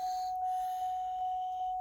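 A Cadillac STS warning chime rings as one steady electronic tone with soft repeating pulses about every 0.4 seconds, clear and alone in a quiet car interior during console and shifter repair.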